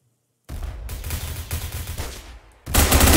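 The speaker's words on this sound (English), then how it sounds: "I'm shooting this gun with nothing on me" Gunfire in the Roblox game Phantom Forces, sounding as loud, close automatic bursts that begin abruptly after a moment of silence and stop briefly before a final burst; no talking.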